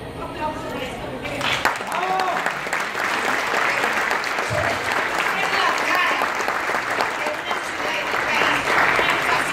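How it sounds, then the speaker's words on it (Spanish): A crowd at a fashion week show applauds steadily and loudly throughout, a dense wash of clapping with voices mixed in. "Un aplauso por esta mujer."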